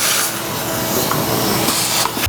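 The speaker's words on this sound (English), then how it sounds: "I'm just going to vacuum those up real quick before I continue." A vacuum cleaner sucks up metal shavings in a workshop during a car assembly job, giving a loud, continuous rushing hiss with a few faint rattles as bits are drawn in.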